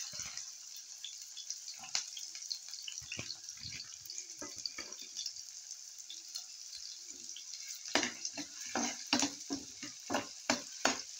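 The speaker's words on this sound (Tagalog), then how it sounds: "So we have to saute these onions and garlics." Chopped onions sautéing in hot oil in a pan, with scattered crackles and pops over a soft background hiss, the bursts growing louder and more frequent toward the end, with no talking.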